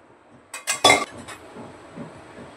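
A wok is set down on a home stove with a few sharp metallic clinks of pots close together in the first second, then a quiet kitchen background. No speech.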